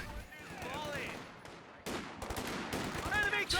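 Gunfire and explosions in a Company of Heroes 2 match with US forces against dual machine guns: dense overlapping bursts and impacts, loud and continuous with brief gaps, over ambient battle noise.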